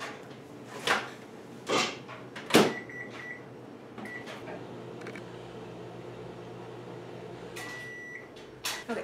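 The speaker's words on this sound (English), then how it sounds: "Make sure you get all of the aluminum off, because we're gonna put this in the microwave." A microwave oven softening chocolate fudge for an eclair cake: door and handle clunks, beeps from the keypad, then the unit's steady hum running, with a final beep and door sound at the end.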